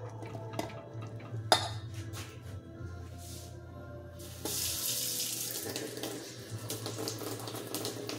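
Warm water runs from a kitchen faucet into a sink in steady, continuous flow, close and fairly loud, with faint clinks of dishes and utensils and a louder gush as the stream strengthens partway through.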